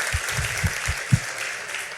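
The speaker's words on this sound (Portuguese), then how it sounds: "Gente, pode aplaudir, né?" A church congregation applauding during a service, dense clapping with a few louder individual claps standing out, continuous and fairly close.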